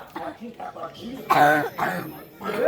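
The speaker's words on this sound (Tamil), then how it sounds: "வேற ஏன்டா இருமுறா" Several harsh coughs burst out amid lively talk during a Tamil stage drama, loud and close, with voices continuing around them.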